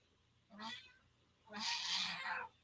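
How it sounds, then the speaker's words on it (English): A pet cat meows twice indoors after waking from a nightmare, a short cry followed by a longer, louder drawn-out meow, fairly close against a quiet room. "Did you guys hear that? It was my cat."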